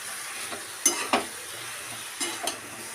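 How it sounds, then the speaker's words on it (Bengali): Turmeric being stirred into boiled cabbage in a pan, a soft steady sizzle with a few brief scraping strokes of the spoon in two short bursts, close and quiet. "এখানে আমি হলুদের অংশটা পুরোটার মধ্যে নাড়াচাড়া করে নিচ্ছি"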